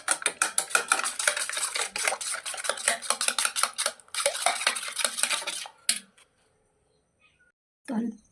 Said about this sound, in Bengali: এবার এটাকে ভালো করে একটু ফেটিয়ে নিতে হবে।